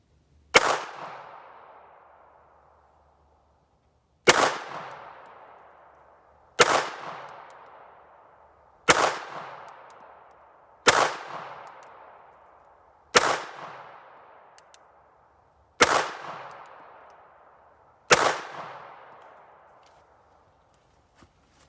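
Eight sharp shots from a small gun crack out at irregular intervals of two to three seconds in the woods, each close and loud with a short decaying tail, aimed at a small target about 20 yards away.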